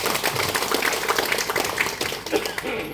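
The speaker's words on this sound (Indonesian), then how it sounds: "Tepuk tangan dulu untuk kita semua." An audience claps at a welcoming address by political figures during a visit, with busy, uneven applause mixed with a crowd's voices throughout.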